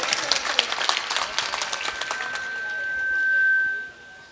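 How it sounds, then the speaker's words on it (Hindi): An audience at a mushaira, an Urdu poetry recital in Dhampur, breaks into lively applause that swells, then tapers off as a voice on the hall's sound system begins to speak. "एक बार इस मुशायरे के लिए जोरदार ताली आप सबकी"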